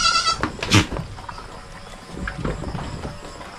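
Goats bleat among a herd at feeding time, a couple of short nearby calls over soft shuffling and hoof sounds.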